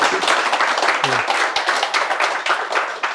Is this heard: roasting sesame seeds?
no